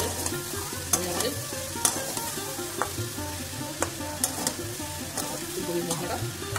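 A cauliflower filling for bhapa pitha is stirred in a hot pan, with a steady sizzle under repeated sharp clinks and scrapes of a spoon against the pan, heard close and without any talking.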